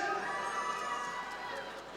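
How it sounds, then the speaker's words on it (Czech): Crowd cheering at a Nymburk versus Yenisei sports match, a faint, distant, steady roar of many voices with higher shouts rising and falling over two seconds. "Jak fandějí slečny nad 50 let!"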